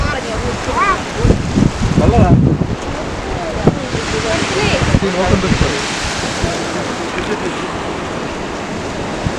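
Sea waves surge and wash on a coastal outing, the surf rumbling steadily under gusty wind buffeting the microphone, with people chatting briefly over it.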